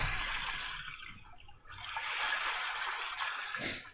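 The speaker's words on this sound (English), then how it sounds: "We have a little ocean action." Recorded ocean water ambience played from a sound app, a sloshing, splashing wash that fades in and out, with a brief dip partway through and a short bright burst near the end.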